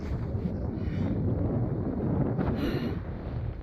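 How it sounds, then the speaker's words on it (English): Chilly wind gusts across the microphone on a mountain trail near Mount Unaka, a loud, continuous low roar and buffeting that fills the whole stretch without a break, with no speech heard. "that wind's chilly"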